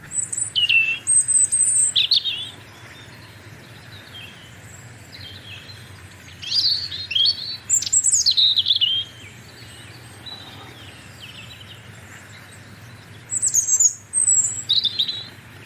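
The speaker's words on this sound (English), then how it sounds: "There's a robin." A robin calling outdoors in January, thin high warbling phrases in three separate bursts with quiet gaps between, moderately close against a faint low background hum.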